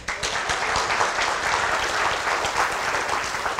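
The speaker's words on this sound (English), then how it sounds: "how about another round of applause for Mr." Dense audience applause at a self storage industry gathering in Houston, continuous and even throughout, many hands clapping together without a break.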